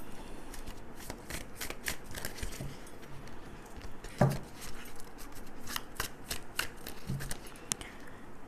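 Tarot cards being shuffled by hand, a quiet, steady riffle of crisp card flicks with occasional louder snaps, close by and without talk.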